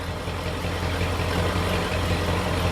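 A 1966 Ford F-250 truck that burns a little oil idles steadily close by, a loud, even low rumble with a constant throb and no talking.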